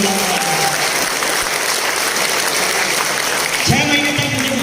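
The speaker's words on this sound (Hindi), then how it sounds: "ताली जोरदार बजा दीजिए" Sustained, dense applause from an audience at a business leadership talk, a steady roar of many hands clapping throughout, with a voice beginning to speak near the end.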